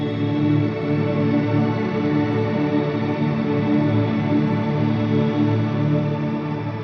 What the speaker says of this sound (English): I add the modulation pedal and I add the reverb pedal